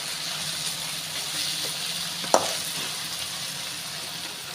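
Onion, tomato and ginger-garlic paste sauté in a pan with a continuous soft sizzle, broken once midway by a single sharp scrape or clink of the spoon.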